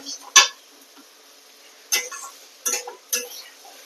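A utensil clinks against a pan while soybean chunks and potatoes are sautéed for a vegetarian curry: four sharp, separate metallic taps over a quiet background, with no talking.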